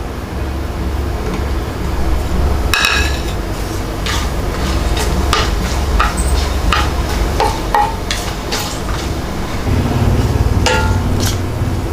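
Cardamom, cinnamon, fennel and dried chillies frying in hot oil for Tamil mutton varuval, a steady close crackle and sizzle with scattered sharp pops throughout, no talk.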